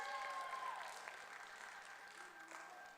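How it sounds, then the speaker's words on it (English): Faint, distant audience applause at a college television telethon, a thin wash of clapping that slowly tapers under a low steady hum. "Everybody give a round of applause for the Cool Tigers."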